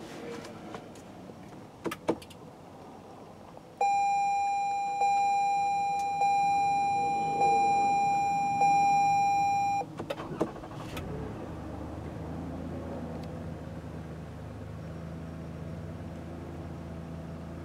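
A 2017 Toyota Sienna SE Premium minivan is started by push-button ignition: a few clicks, a loud sustained chime that repeats several times, then the engine catches and settles into a low, steady idle.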